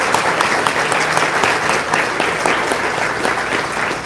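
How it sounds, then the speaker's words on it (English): Loud, dense audience applause for panelists at an executive ethics symposium, steady and continuous from start to finish. "Big round of applause for our panelists."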